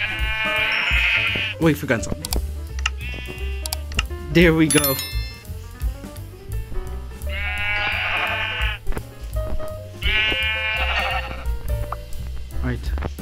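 Sheep in Minecraft bleat in several loud, wavering cries spread across the stretch, mixed with game clicks and thuds while a person talks briefly in between.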